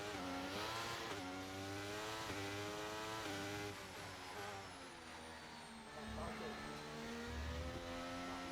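Formula 1 race cars in F1 23 pulling away from the start in Australia, a pack of engines droning and shifting in pitch together, steady and loud throughout with a voice speaking over them.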